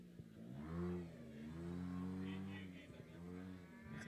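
A rallycross car with an automatic gearbox accelerates at an evening motorsport meeting in Kenya, its engine note rising and falling in long, smooth sweeps, heard at a moderate distance and fairly faint.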